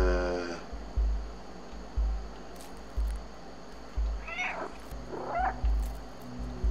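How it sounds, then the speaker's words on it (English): A cat meows twice in rising, drawn-out cries in the video game Stray, over a low, rhythmic thumping background, with no talking. "What am I meowing at?"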